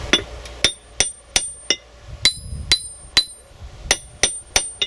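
Hammer striking a cast steel anvil, about a dozen sharp ringing metallic strikes in an uneven rhythm, each clang bright and sustained with a lingering ring, close and loud with no talk.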